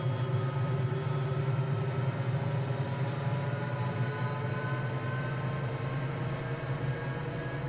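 Bell 206 helicopter in a flight simulator, its turbine engine and rotor spooling up in a steady, loud, continuous whine and whir that holds evenly throughout, with no talk.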